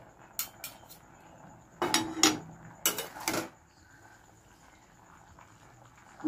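Puishak chochchori gets stirred in a metal pot, and a lid goes on. Several bursts of clanking and scraping come up close, separated by quiet pauses.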